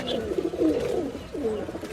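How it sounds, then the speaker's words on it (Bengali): A Pakistani highflyer pigeon coos close by, a few soft throaty rolling coos in quick succession against a quiet indoor background. "তো ভিউয়ার্স, আমি একটা কবুতর ধরে দেখাই আপনাদের।"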